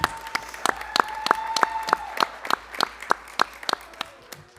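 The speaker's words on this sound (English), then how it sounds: "So give them a round of applause." Scattered applause at a school board of directors meeting honoring scholar athletes, heard as a small group's distinct individual claps in a loose, sparse rhythm, fairly close and moderately loud, with no talking.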